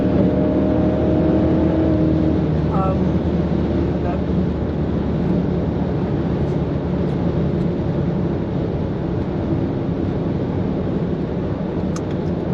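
Engine roar from a factory-stock Jaguar F-Type drag racing a Nissan GTR at Santa Pod, a steady loud drone that holds across the run, with faint voices in the background.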